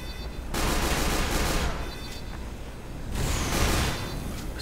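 A sentry gun in Team Fortress 2 fires rapidly into the ground for a sentry jump, two sustained bursts of dense automatic gunfire, loud and continuous, separated by a brief lull.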